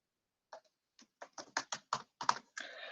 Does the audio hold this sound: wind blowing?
no